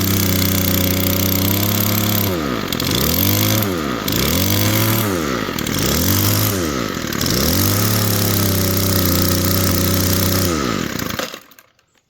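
Small two-stroke string trimmer engine, its throttle repaired by plastic welding, runs loud and close, revving up and down in four or five rising-and-falling surges before cutting off abruptly at the end.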